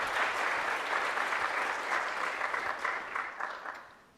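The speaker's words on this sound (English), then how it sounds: "Give yourselves a round of applause." Students at Shevchenko University in Kyiv applaud together in a steady, full round of clapping that holds evenly for about four seconds before fading out.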